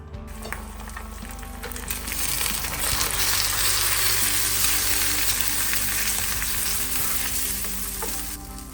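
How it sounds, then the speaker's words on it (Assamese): Chicken fries in a pan for breakfast with a loud, continuous sizzle and crackle that swells slightly midway, close by and without speech. "এয়া চব চিকেন ফ্ৰাই হৈ আছে"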